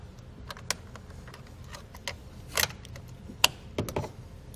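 A battery cable on a 2019 Ford Explorer is cut with a hand tool, giving a series of sharp irregular clicks and snips, with a few louder crunching bursts near the end, close up over faint background hiss.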